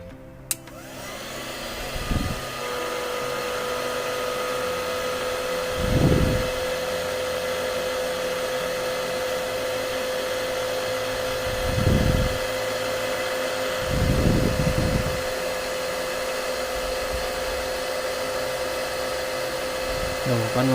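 A mini 8858 II hot air gun runs to shrink heat-shrink tubing with a steady, continuous blowing hiss and a constant whine. Brief louder bursts recur throughout, and the tool stays close and dominant.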